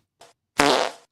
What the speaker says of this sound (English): Hang on, I'm going to push the fart button.